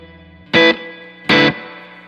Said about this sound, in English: Modern players of this amp really just barely have the reverb on like I do.